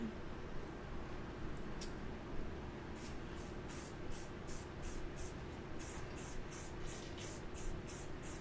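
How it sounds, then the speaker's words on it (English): Short repeated bursts of spray paint hiss from an aerosol can as rainbow coasters are coated, a dozen or so quick spritzes in a steady rhythm over faint background hum. "make sure you're in a well-ventilated space if you're doing this much spray paint"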